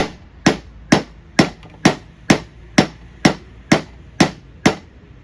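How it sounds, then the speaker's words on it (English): A hammer strikes a flywheel puller on a cast-iron flywheel of a Ford YT16 riding mower, eleven sharp metallic smacks at a steady rhythm of about two per second, close and loud with each ring decaying quickly. "take the hammer and smack it a few times"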